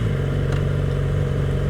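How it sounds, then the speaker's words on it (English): 2014 Yamaha R6 sport motorcycle engine wound out in first gear, a loud, continuous high-revving howl heard close from the rider's position with wind noise. "I want to ring out first gear and see what the fuck I'm at"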